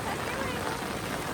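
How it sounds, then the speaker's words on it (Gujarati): Heavy rain pours down steadily during shrimp fishing at sea, a dense, loud, unbroken hiss lasting the whole moment, with voices mixed in underneath. "ઓય વરસાદ આવ્યો."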